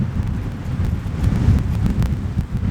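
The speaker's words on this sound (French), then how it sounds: "Non mais tu as vu ce vent?" Strong outdoor wind buffets the microphone in the Verdon, a steady low rumbling roar with gusty swells and no clear talk over it.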